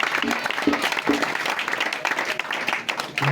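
A church congregation at a healing service applauds and acclaims Jesus Christ, a dense, steady wash of clapping with voices mixed in throughout the short stretch.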